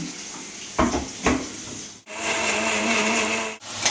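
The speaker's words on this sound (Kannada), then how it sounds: "ಈರುಳ್ಳಿ ಟೊಮೊಟೊ ತೆಂಗಿನಕಾಯಿ ಸ್ವಲ್ಪ ಹುರ್ಗಡ್ಲೆ ಸ್ವಲ್ಪ ಗಸಗಸೆ ಸ್ವಲ್ಪ ಚಕ್ಕೆ ಲವಂಗ ಟೊಮೊಟೊ ಸಾಂಬಾರು ಪೌಡರ್ ಸ್ವಲ್ಪ ಇದಿಷ್ಟನ್ನು ಹಾಕಿ ಗ್ರೈಂಡ್ ಇದ್ದೀನಿ" A mixer grinder blends onion, tomato, coconut, roasted gram, poppy seeds, cinnamon, cloves and sambar powder: two short pulses, then a sustained whirring grind cut off briefly before resuming, loud and close.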